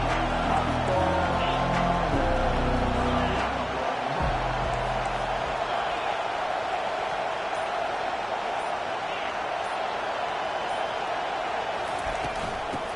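Football stadium crowd at an Oklahoma Sooners game, a loud continuous roar of cheering that fills the space, with a low rumble fading after a few seconds while the noise carries on.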